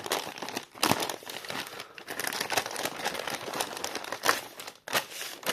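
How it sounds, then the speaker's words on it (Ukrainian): Paper envelope torn and opened by hand up close, with continuous crinkling and crumpling, sharp rips and short pauses in between. "Так, що тут письмо треба відкривати руками."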